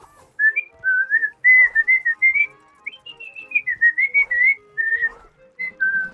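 A person whistles a wandering, melodic tune with sliding notes and short pauses, fairly clear and alone without talk.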